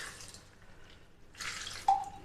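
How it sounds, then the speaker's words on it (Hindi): A little water is poured into a mint margarita drink mixture ahead of blending, a quiet trickle followed by a brief brighter splash and drip near the end. "और अब हम इसमें डालेंगे थोड़ा सा पानी"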